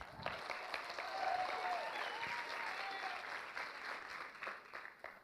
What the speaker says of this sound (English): I want y'all to give a round of applause for my wonderful family that's here tonight